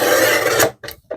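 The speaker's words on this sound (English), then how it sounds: "take a trimmer and cut it down" Paper trimmer slicing through card for a handmade card, a close, raspy sliding cut of under a second followed by two short soft clicks.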